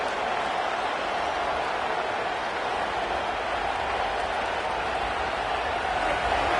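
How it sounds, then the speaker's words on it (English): Stadium crowd at a football game roars in a constant, loud wash of cheering and noise that holds steady with no breaks. "this crowd trying to help keep them there"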